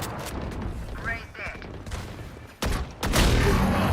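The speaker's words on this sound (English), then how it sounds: "Flashbang." A flashbang grenade goes off in a tactical shooter match, with bursts of gunfire and loud blasts, the sharp crack arriving near the end amid dense, continuous battle noise.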